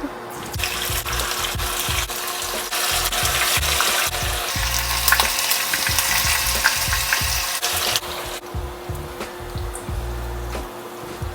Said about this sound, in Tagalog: So, first, ipa-fry muna natin itong mga tofu.